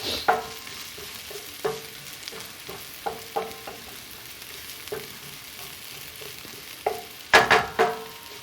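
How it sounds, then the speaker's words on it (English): Vegetables sauté quietly in a pan while cooking down toward translucent, giving a soft low sizzle. A utensil taps and scrapes against the pan in scattered knocks, with a louder clatter near the end and no talking. "So I just saute these until they are translucent"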